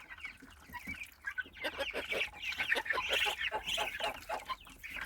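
Muscovy ducklings of a heavy breed kept with giant-breed chicks, giving a dense run of high peeps and chirps that overlap steadily and fairly close.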